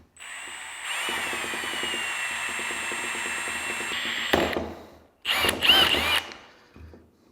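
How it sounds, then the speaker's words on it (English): A power drill whines steadily as it bores through a wooden stick, grinding for a few seconds, pausing, then bursting loudly again in a shorter run. "I'm drill a hole through this wooden stick"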